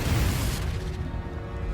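A Confringo blasting spell explosion in Hogwarts Legacy lands as a dense, loud low-end blast that rumbles and crackles steadily without dying away before the clip ends.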